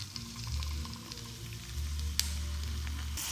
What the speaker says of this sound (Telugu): ఈ ఆయిల్లోకి ఉల్లిపాయలు అలానే కరివేపాకు వేసుకుందాం.